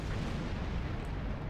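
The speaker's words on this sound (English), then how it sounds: "enough with the explosion already." A heavy, dense explosion roars through a Star Trek Online space battle, a continuous deep rumbling blast with crackling texture that fills the whole moment, loud and unbroken, with no speech over it.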